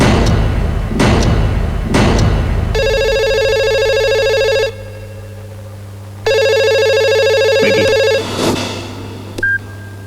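A telephone rings loudly in two long bursts with a pause between, amid thumps and knocks nearby.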